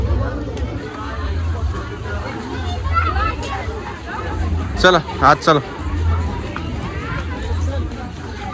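Crowd chatter and hubbub at a busy Indian village fair (yatra), a steady babble of many voices with children nearby and a few louder close voices breaking through, while people talk close by.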